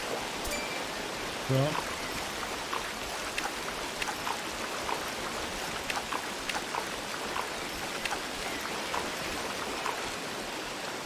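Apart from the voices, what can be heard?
flowing river while walking through it, from the video game Among Trees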